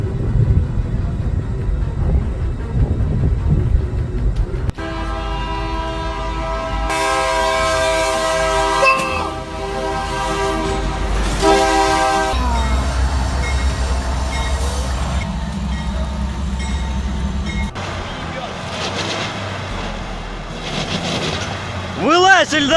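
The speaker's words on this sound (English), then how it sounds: "The car got stuck on the tracks and was crushed by the train." A train rumbles along the tracks toward a car stuck on the crossing, its horn blaring in long sustained blasts over the heavy rolling noise, then a harsher clattering stretch near the end, with voices breaking in at times.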